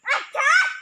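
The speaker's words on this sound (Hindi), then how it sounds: "अच्छा कुत्तों की गैंग" Dogs from a small pack bark close and loud, a short yelp followed by a longer drawn-out bark, with no voices over them.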